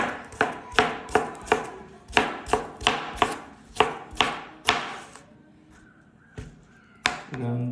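A knife chops a carrot into small pieces on a board for a fruit and vegetable salad: a run of close, crisp, evenly spaced chops, then a few slower, sparser cuts, with no talking.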